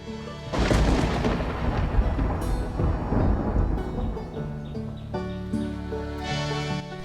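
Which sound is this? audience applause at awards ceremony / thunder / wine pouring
thunder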